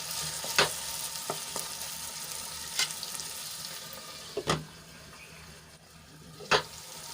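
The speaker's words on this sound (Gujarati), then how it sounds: "એક ઝીણું કાપેલું ટમેટું એડ કરી લઈશું અને ડુંગળીમાં સરસ રીતે મિક્સ કરી લઈશું" Chopped tomato and onion cooking in a pan on the stove give a soft, steady sizzle, with a few sharp clinks of a utensil against the pan standing out now and then, quiet and close, no speech.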